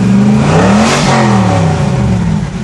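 Ford Mustang engine held at high revs, a loud steady roar with a slight rise and fall in pitch that eases off at the end, close by with no speech.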